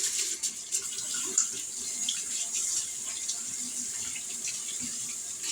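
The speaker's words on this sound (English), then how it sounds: "Let me wash my hands off." Hands being rinsed under a running kitchen tap while baking Thanksgiving pies, a steady close hiss of flowing water with small splashes throughout and no talking.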